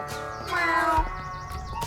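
Cats in an anime slice-of-life adventure game, Sushi Ben, with a single drawn-out, tonal meow rising and falling, close and clear over a quiet background.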